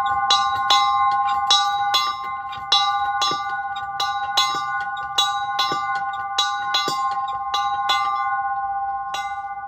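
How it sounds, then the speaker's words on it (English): A dinner bell of the kind used on farms, schools and churches rings repeatedly, with bright, sustained metallic tones and roughly a dozen clear strikes at an uneven rhythm, loud and close with no talking. "So right here we have is a dinner bell, which also can be used by farms, schools, and churches."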